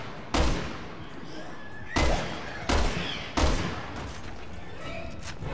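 Bolt-action rifle fire in Resident Evil 6 on PC: four sharp, booming shots spaced unevenly over a few seconds, each with a short decaying tail against a quiet game background.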